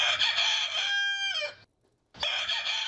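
A rooster crows once, loud and close, with a rising then falling call. A brief silence follows, then another crow begins.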